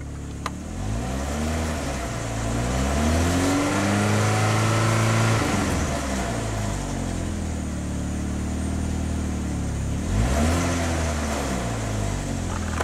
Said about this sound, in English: Something sounds kind of rattly under there